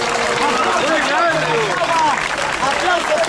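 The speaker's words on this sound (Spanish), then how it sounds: "¡Aplauso fuerte!" An audience at a freestyle rap battle exhibition in Rancagua claps and cheers in a steady, loud wash of applause, with voices calling out over it.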